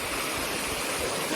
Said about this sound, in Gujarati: આ રીતના પાણી જાય છે અહીંયાથી આખું નીચે સુધી